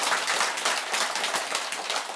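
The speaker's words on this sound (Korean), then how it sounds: "일단 박수 한번 쳐주자." Audience applause during a Buddhist dharma talk, a steady wash of many hands clapping together at moderate volume, sustained throughout with no voices over it.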